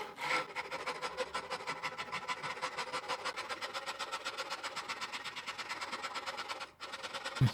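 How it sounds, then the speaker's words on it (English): A saw rasp carves the profile of a rosewood guitar neck, giving a steady, close rhythmic rasping of fast even strokes that continues almost without a break, with a brief pause near the end. "I'm going to switch over to a saw rasp and I'm going to begin carving the profile of the neck"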